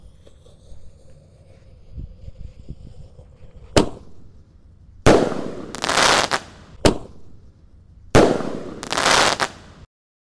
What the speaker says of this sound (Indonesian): terima kasih sudah mengikuti menyalakan mercon di lubang tanah spesial ngabuburit Ramadan hari ke-11